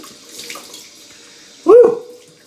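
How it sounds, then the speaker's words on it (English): Cold tap water splashed onto a face during a shave, with a faint trickle at first and then one loud, close splash near the end, and no talking. "wash my face off with some cold water before I apply the Aqua Velva"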